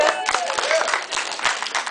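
A church congregation meeting in a cinema auditorium breaks into a short burst of scattered, overlapping claps, with voices mixed in over the applause.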